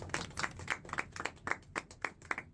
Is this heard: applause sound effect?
yes